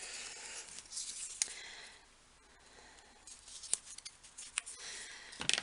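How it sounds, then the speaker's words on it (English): Scissors trimming sticky score tape on a paper craft album, several quick crisp snips with soft rustling of paper and tape in between, quiet and close. "the score tape is sticking to itself, so let's just trim that."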